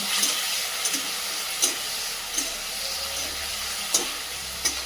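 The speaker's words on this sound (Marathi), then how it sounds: "हे तयार केलेलं वाटण त्यामध्ये टाकून घेऊया। पुदिना, कोथिंबीर, 1 हिरवी मिरची याचं वाटण करून घेतलेलं आहे। छान परतून घ्यायचं।" A paste of mint, coriander and green chilli sautés in a pan with a soft continuous sizzle, broken by light scraping stirs that recur every second or so.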